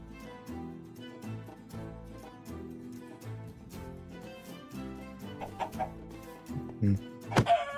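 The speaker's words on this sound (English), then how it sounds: "That's why there's a chicken back there." A chicken in Minecraft, played in the Feed the Factory modpack, clucks a few times near the end of the passage, brief clucks sitting over steady game background music.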